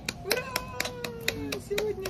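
A family claps at a baby's first birthday party at home, a handful of sharp, uneven claps over a faint sung or held voice tone.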